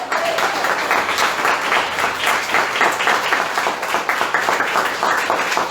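A church congregation gives a sustained round of applause, dense close clapping that stays loud and even throughout, with voices faintly audible beneath.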